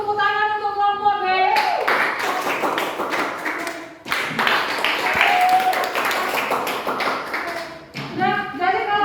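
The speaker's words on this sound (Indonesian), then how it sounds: "kasih dulu tepuk tangan untuk kelompok B" Classroom applause for a student group, a burst of clapping rising from about 1.5 s, pausing near 4 s and 8 s, with talk underneath and at the start and end.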